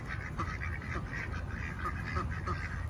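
A duck quacks repeatedly in a garden, short nasal calls in a loose rhythm over steady outdoor background noise, moderately close.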